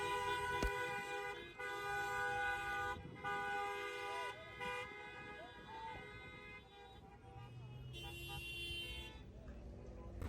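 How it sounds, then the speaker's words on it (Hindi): Car horns honk repeatedly amid busy traffic noise in Riyadh, with steady tones overlapping and sustained throughout, some sounding near and others farther off. "मुझे ये हॉर्न सुन के बड़ा मज़ा आया था"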